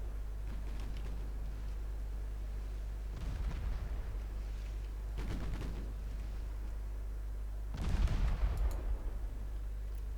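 Several heavy naval gun salvos and 7.9-inch high-explosive shell blasts in Ultimate Admiral Dreadnoughts boom out at intervals over a steady low rumble, the last and loudest landing near the end.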